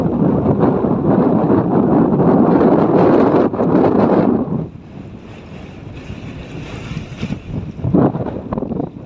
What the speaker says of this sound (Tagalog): kung mapapansin nyo, napakalakas pa rin ang hangin